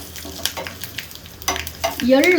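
Dry chillies and asafoetida stirred in a sizzling pan, with a spoon scraping in short strokes over a constant close fry hiss that rises near the end.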